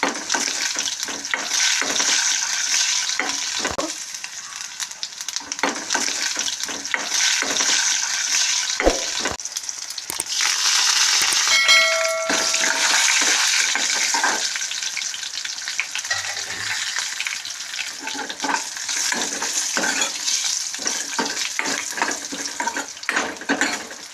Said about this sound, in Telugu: ఇప్పుడు వేగిపోనియండి